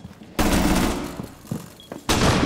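A light machine gun opens up in a Rainbow Six Siege match: a loud, sustained burst starts abruptly, thins into scattered shots and thuds, then a second hard burst begins near the end.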